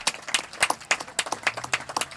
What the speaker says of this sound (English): Round of applause for Oval and Ale.